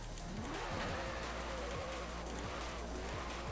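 Car skidding and sliding in the racing game Forza Horizon 4, a steady loud engine roar with repeated tyre-squeal sweeps running through the whole stretch.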